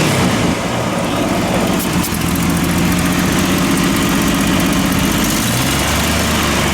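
A 1963 Ford Falcon Cayuse convertible engine idles close by, with a loud, steady, lumpy rumble that carries on without a break.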